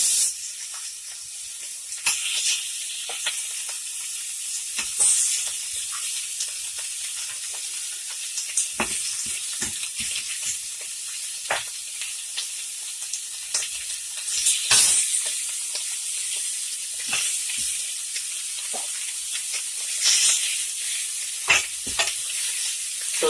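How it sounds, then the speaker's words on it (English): Pork ribs searing in a dry pan without oil give a loud, close, continuous sizzle and hiss, dotted with sharp pops and crackles throughout, with no talking. "I'm just going to start sealing the ribs now."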